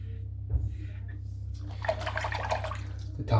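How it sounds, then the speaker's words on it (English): A sink full of water and shaved hair drains after a head shave, with soft gurgling and sloshing water close by, growing busier midway and ending with a low thump. "I'm just going to empty the sink out, so it's full of hair"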